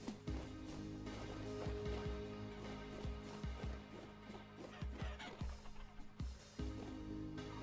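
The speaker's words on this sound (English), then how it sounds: "A lot of chickens and hares." Chickens cluck in a Vintage Story game world, a string of short, loud fowl calls scattered over several seconds against a steady ambient background, with no talk.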